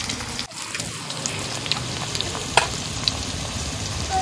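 Whole cumin and chopped onion fry in hot oil for a Bengali chicken dish, giving a steady, close sizzle with scattered sharp crackles and pops and no talking.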